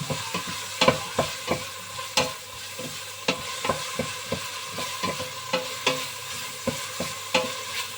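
A hotdog sizzles and fries in a pan while a utensil taps and stirs in an irregular rhythm, close and moderately quiet.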